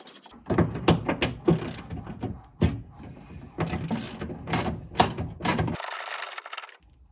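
A ratchet backs out big self-tapping screws from a Jeep Patriot door panel in short bursts of rapid clicking, close up, separated by brief pauses and ending in a quieter stretch.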